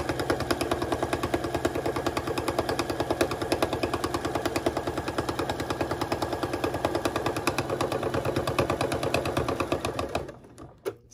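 A sewing machine stitches a row down a fabric two-bottle wine tote, a steady rapid mechanical chatter held loud and close for about ten seconds before it stops, with a couple of faint knocks after.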